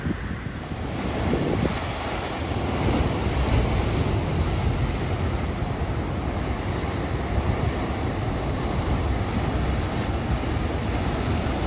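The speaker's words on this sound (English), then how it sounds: "tidal pools, which of course are filled by crashing waves" Ocean surf on the coast of Hawaii's Big Island roars continuously with heavy wind buffeting the microphone, a dense, loud wash with no distinct breaks and no voices.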